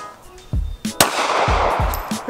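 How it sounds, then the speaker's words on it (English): A Ruger LC9s 9mm handgun at a shooting range fires a handful of sharp, loud reports about half a second apart, with echoing decay after each shot. "this is gonna be her first time ever shooting."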